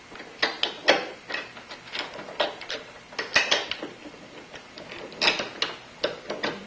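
Fitting a headlight motor back into a 2001 C5 Corvette with three mounting bolts, heard as close clicks, rattles and ratcheting metal taps in uneven rapid bursts against a plastic housing, with no one talking.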